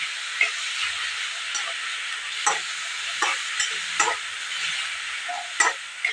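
Tomato and chopped vegetables fry in a pan with salt added, a continuous hissing sizzle punctuated by periodic spatula scrapes and knocks, close and fairly loud, with no speech.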